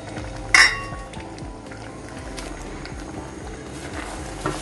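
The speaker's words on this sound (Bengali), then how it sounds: "এভাবে একটু ঢেকে সিদ্ধ করছি।" Ridge gourd simmering in a covered pot, a low steady bubbling close by, with a sharp metallic clink of the lid or utensil near the start and a faint knock at the end.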